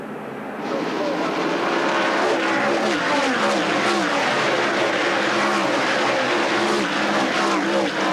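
Stock cars roar around the North Wilkesboro short track in a 1985 race, a dense continuous engine drone from the pack that swells in after a moment, with an announcer talking over it.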